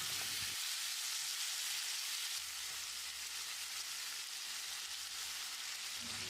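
Steady, hissing sizzle of salted tomatoes sautéing in a hot frying pan for mint chutney, continuous and close, with faint occasional stirring thumps.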